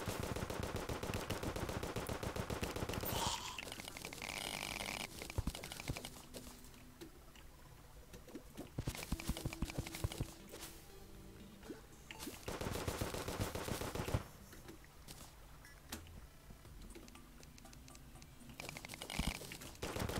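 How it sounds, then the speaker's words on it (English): Gunfire from a weak gun in the Terraria Calamity video game: repeated sharp shots in loud bursts over game music, with quieter stretches between the volleys. "This isn't a very good gun."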